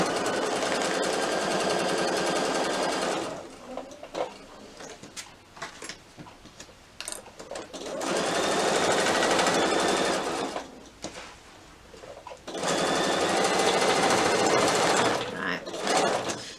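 A sewing machine stitching card slots into a small batik fabric wallet, close and loud in three steady bursts of fast, even whirring and ticking, with quieter handling and talk between runs.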